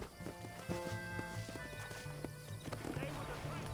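Hooves pound in a steady, driving gallop from horses in the Western video game Red Dead Redemption, mixed with occasional neighs and background music during frantic shouted speech.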